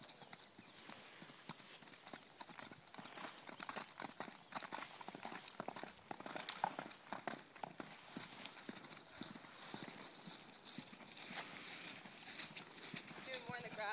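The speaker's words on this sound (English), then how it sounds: "And then maybe ask for a little canter." A horse cantering on grass makes a steady, rhythmic clip-clop of hooves throughout, fairly close, while people talk over it.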